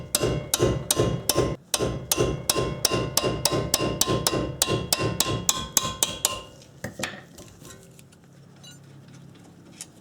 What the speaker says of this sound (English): I'm going to hit this with a hammer